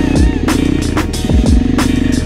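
Apollo pit bike engine revving hard during a wheelie attempt, loud buzzy bursts rising and falling repeatedly, close up with some clatter.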